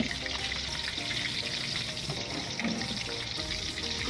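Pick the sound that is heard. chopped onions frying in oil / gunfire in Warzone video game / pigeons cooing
chopped onions frying in oil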